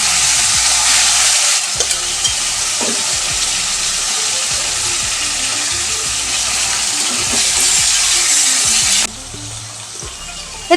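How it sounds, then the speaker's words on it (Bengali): Cooked taro leaves go into a hot pan for a hilsa fish-head curry and are stirred, giving a loud steady sizzle with scraping utensil sounds that drops off sharply near the end. "এবার আমি কচুর শাকটা দিয়ে দিচ্ছি।"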